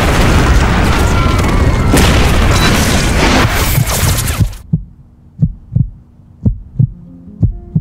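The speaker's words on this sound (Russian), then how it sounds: "А затем внезапно происходит взрыв." Bomb explosion, heard as a long, loud, roaring rumble that cuts off abruptly, followed by a series of evenly spaced low thumps resembling a heartbeat in near silence.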